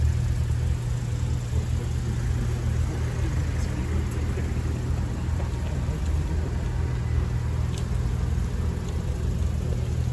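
Rally cars from a historic rally event arrive one after another, a steady mid-pitched engine rumble with idling and light revving that holds at constant loudness throughout.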